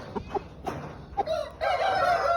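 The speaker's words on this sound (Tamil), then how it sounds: "भैया 3 केजी, फुल टाइट बॉडी, 1 साल का मुर्गा है, फुल कंडीशन है, रनिंग फाइटर है।" A one-year-old, 3 kg fighting rooster in full condition crows nearby, preceded by a few short clucks and ending in a loud drawn-out crow, with no talk over it.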